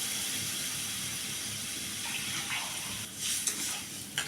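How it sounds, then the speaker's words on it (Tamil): Water pours and splashes into a pot of chickpea gravy being cooked at home for a puri dinner, a steady faint gush rising in the last seconds, with no talk. "பாருங்கள், இந்த அளவுக்கு தண்ணி ஊற்றிட்டேங்க"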